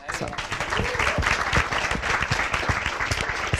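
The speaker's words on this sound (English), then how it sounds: "Warm applause for Tusse." An audience at a casting panel during an industry open house breaks into lively applause, fast close claps forming a dense, even burst that fills the short stretch, with some voices mixed in.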